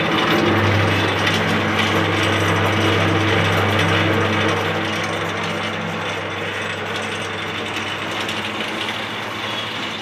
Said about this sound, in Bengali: এই যে মেশিনটা চলছে, এই মেশিনটা চলছে।